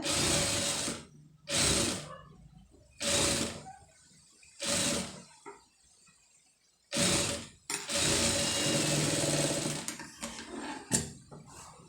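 A tailoring sewing machine stitches an embroidered blouse in short mechanical bursts, whirring runs of a second or two separated by pauses, then a longer continuous run near the end, close and loud.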